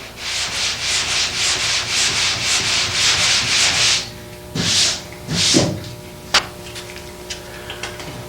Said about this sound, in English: Just take your time and let the sandpaper do the work.